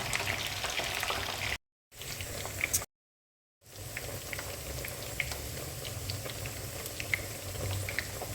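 Mixed vegetables fry in a pressure cooker with a steady, close sizzling crackle, broken by two brief silent gaps, with no talking.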